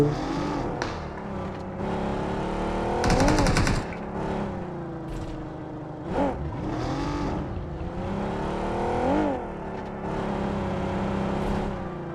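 A car engine roars and revs in a BGMI racing match, rising and falling through repeated accelerations and gear changes. A short burst of rapid gunfire breaks in partway through, with no speech.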